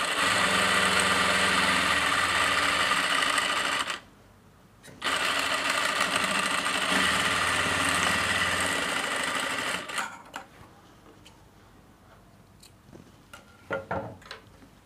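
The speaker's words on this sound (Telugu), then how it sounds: "ఇప్పుడు ఈ పాకెట్ అంచు నుంచి స్టిచ్ చేసుకుంటూ కంటిన్యూ చేసుకుంటూ వచ్చేయాలి" A sewing machine stitching along the edge of a pants side pocket runs in a loud, steady, close whir, stops briefly near four seconds, resumes, then gives way to a few faint handling clicks and taps.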